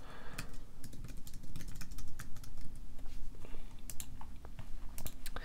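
Rapid, uneven clicking of keys on a computer keyboard, close and fairly quiet, in bursts of quick taps with short pauses and no talking.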